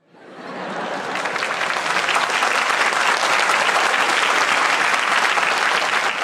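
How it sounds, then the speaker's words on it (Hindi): Audience applause fills a lecture hall at a spiritual talk in Patna, building quickly from silence into sustained, dense clapping that stays loud and steady throughout with no voices over it. "इसमें इतनी ताली बजाने की क्या बात है"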